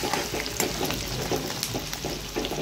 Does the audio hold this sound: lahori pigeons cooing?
no